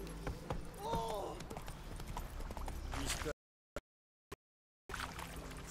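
Horse hooves clip-clop in The Witcher 3, a steady rhythmic trot heard up close alongside in-game character voices, cutting out briefly to silence before resuming.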